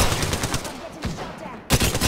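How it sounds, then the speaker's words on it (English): Bursts of gunfire and impact hits land on the player in the Apex Legends video game, loud and close, with a sharp burst near the end. "I'm getting shot"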